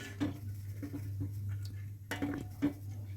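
Light scraping and clinks of a spoon stirring rabri syrup with dry nuts in a pan, a few soft intermittent taps and scrapes over a steady low hum, close and quiet.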